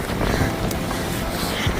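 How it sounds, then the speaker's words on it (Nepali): Strong wind blows outdoors in a short burst, a steady, loud, broad rumble buffeting the microphone. "हावा हानेको धेरै"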